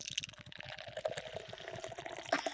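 Lord's Tears beer is poured into a glass, a continuous close liquid glugging and fizzing stream with a small splash near the end, alone without talk.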